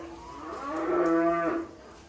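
A six-month-old Limousin calf gives a single deep, full moo lasting about a second, close and clear with no talk.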